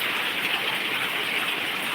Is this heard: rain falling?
yes